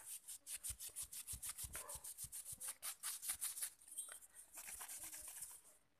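Quick, rhythmic rubbing strokes scrub back and forth, about twenty brisk passes close up, then a few slower, smoother wipes.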